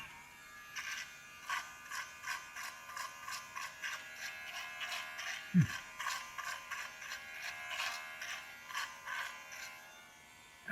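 A Brio Beardscape electric beard trimmer runs with a steady close buzz, pulsing slightly in level as it is moved, plus a brief low thump midway.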